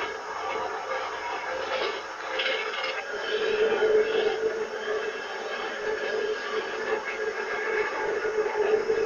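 A 1970s Blackpool tram runs on railway tracks toward Fleetwood, giving a steady rumbling, rattling ride with a faint whine. The sound is moderately loud and somewhat muffled, with no voices.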